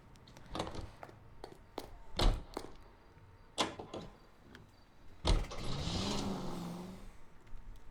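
A car in the 1940s Los Angeles detective game LA Noire pulls away: a few door clunks and thuds first, then the engine starts and revs up with a rising whine as it drives off, moderately close.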